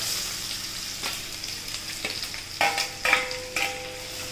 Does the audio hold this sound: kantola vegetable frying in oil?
yes